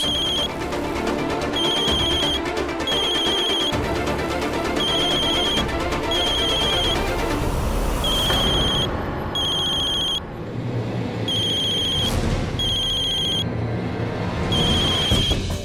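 A telephone bell rings repeatedly in regular bursts over a busy background of music and noise, loud and close throughout.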